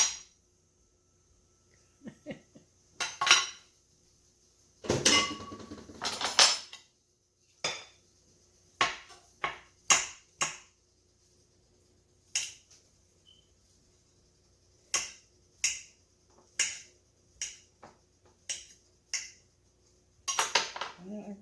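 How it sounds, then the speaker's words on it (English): Cold, hard, clumped-together cooked rice being spooned into a bowl for Sicilian rice balls, heard as a series of sharp, separate scrapes and clinks of a utensil against the dish with quiet gaps between them. "I'm going to put the rice in my bowl, and it's really hard because it's been cold"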